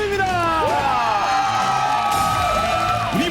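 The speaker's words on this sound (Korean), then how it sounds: "두 분께 뜨거운 박수 부탁드립니다" A studio audience on a Korean television quiz show applauds and cheers for two contestants, a dense, steady roar of clapping and whoops with voices and tonal music layered over it.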